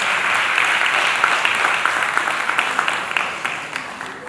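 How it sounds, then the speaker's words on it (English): Sustained audience applause for a keynote speaker at the African Women in the Media 2018 conference: a dense, steady wash of clapping that holds for several seconds and slowly thins toward the end, with no talking over it. "Please do give her a round of applause."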